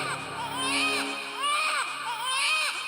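A baby crying as a sound effect in a narrated Hindi religious story, a few rising and falling wailing cries repeating in waves, fairly close and clear.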